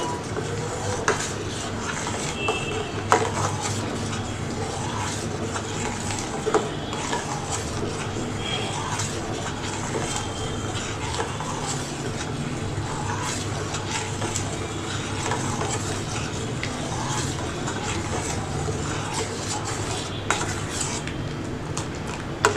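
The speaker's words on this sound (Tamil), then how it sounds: "இது கரையிற வரைக்கும் நம்ம கலக்கினா போகிறோம்." A spoon clinks and scrapes around a pan while china grass is stirred until it dissolves for a fruit jelly. The scraping is steady and repetitive, close and moderately quiet, and no one talks.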